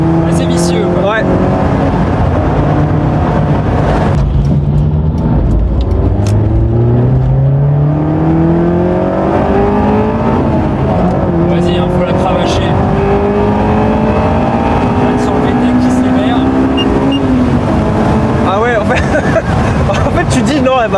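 A Honda S2000 sports car engine revs high, reaching about 7000 rpm, and climbs through repeated rising pitch sweeps, loud and close, with a buzzing, strained tone throughout.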